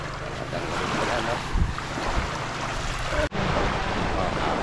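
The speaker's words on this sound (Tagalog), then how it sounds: "Dito po tayo sa gilid ng dagat." Sea waves wash onto the white-sand beach at Santa Fe on Bantayan Island, Cebu, a steady roar of surf mixed with gusty wind buffeting the microphone, with a sharp brief dropout near the end.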